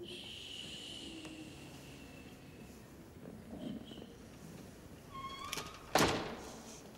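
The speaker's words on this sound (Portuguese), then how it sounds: "Quem é que tá miando aí" A cat gives a short, faint meow near the end, mixed with soft thumps and a door-like knock against a quiet background.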